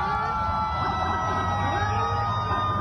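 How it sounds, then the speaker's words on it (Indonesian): Wailing ambulance sirens as dozens of ambulances rush poisoned students to a hospital in West Bandung, several overlapping tones sounding loud and continuous over background crowd noise. "Suasana pun mencekam saat puluhan ambulans berkejaran dengan waktu membawa para siswa ke Rumah Sakit Cililin"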